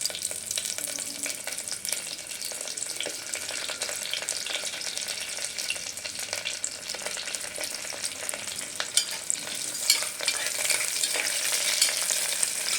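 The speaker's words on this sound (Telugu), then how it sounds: "ఆనియన్స్, కరివేపాకు, పచ్చిమిర్చి వేస్తున్నాను." Onions, curry leaves and green chillies sizzle and fry steadily in a pan for tomato rice, a constant close crackle with occasional stirring scrapes.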